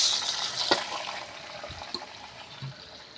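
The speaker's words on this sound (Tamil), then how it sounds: "தண்ணி ஊற்றிக்கலாம்." Water splashes into a hot pan of sautéed ingredients for rava upma, with a brief hissing sizzle that fades to a quiet bubbling.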